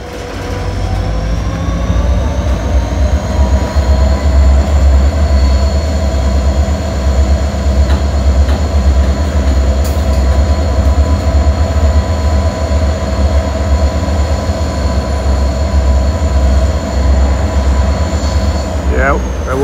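A CSX freight train with a DPU locomotive rolls past close by, a loud, steady low engine rumble and rail noise running the whole time with sustained tonal whines above it.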